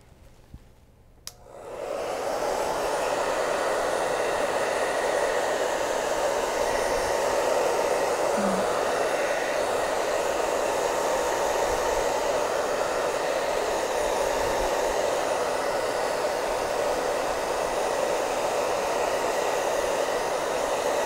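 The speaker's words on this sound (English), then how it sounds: "that was most of the way dry whenever I put the blow dryer on it" A hair dryer switches on after a brief quiet moment and blows steadily and loudly, a continuous even whoosh, while drying chalk paste on a Chalk Couture craft project.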